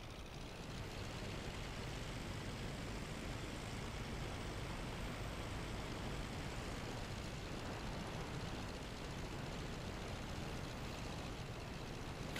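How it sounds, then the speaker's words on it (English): A SPAD VII 180 biplane engine drones steadily as the aircraft taxis in the Rise of Flight game, a continuous, even rumble that holds at the same level throughout with no talk over it. "Let's see if we can do a bit of taxiing."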